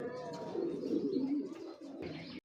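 Jelly pigeons, an original breed, cooing nearby in a loft, a soft, low, rolling coo that swells and repeats over a couple of seconds with faint chirps around it.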